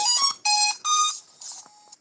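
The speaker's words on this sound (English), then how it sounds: "It's still beeping away inside as well." An FPV drone's Betaflight flight controller plays its startup beeps: a series of bright electronic beeps in a short rising and falling tune, several tones in quick succession, close and clear.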